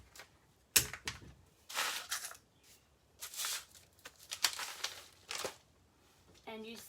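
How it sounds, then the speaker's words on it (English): An artistic furniture transfer sheet releasing as it is peeled off restyled furniture, giving close, crackly, papery rustles in several separate bursts with quiet gaps between them. "you can actually hear the transfer releasing"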